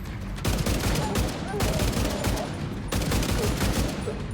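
Gunfire in Division 2 on PS5 at the Jefferson Trade Center mission: loud, close bursts of rapid automatic fire, broken by two brief pauses, with a dense rattle throughout and no talk.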